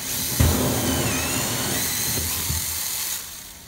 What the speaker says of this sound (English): we use a 25mm or 1-inch hole saw